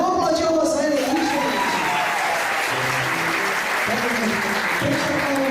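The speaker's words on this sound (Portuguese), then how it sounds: "Rosane, vamos aplaudir a Rosane aí, gente." Seminar audience claps together in a steady, dense round of applause lasting several seconds, with voices murmuring and speaking faintly beneath the clapping throughout.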